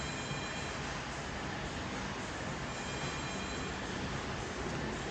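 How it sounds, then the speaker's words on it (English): A SkyTrain rapid-transit train rolls past steadily and loud, a continuous broadband rumble of wheels on elevated track with no speech over it. "there's that sky train with no ad on it"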